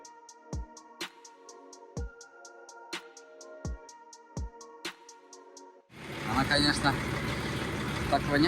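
A truck's diesel engine runs on a winter haul after its frozen diesel fuel was warmed. Evenly spaced knocks with low thumps give way to a loud, steady rumbling drone.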